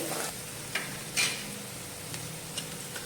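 Onions frying in a pan until brown for tamarind rice (huli anna), a quiet steady sizzle broken by a few faint clicks and stirring scrapes, with no talking.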